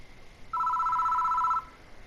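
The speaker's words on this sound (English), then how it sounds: "The phone rings." In the video game Death Mark, a telephone gives a single electronic trill lasting about a second, clear and fairly loud against a quiet background.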